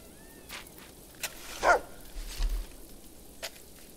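A dog barks once, fairly close, in the fantasy video game Fable 2, with a few soft thumps and faint footsteps around it against a low background.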